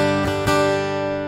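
Acoustic guitar through an unfiltered piezo pickup into a Fractal processor, a ringing strummed chord with a couple of quick pick attacks that sustains bright and slightly brittle, then slowly decays.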